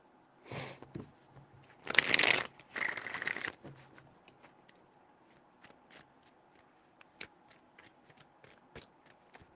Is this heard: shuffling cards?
yes